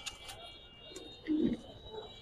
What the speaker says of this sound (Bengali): কালোওয়ালা লাইনের পাখি কবুতর দেখেন